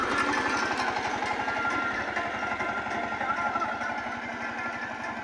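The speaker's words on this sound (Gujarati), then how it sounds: "અહીંયા બપ્પા હાકી રહ્યા હતા ટ્રેક્ટર" A tractor engine runs steadily in a farm field, a close, even low chugging that holds throughout with no pauses and no voices over it.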